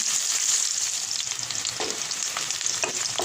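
Onion and garlic frying in a pan, a steady close hiss and sizzle with occasional soft stirring scrapes and no voices.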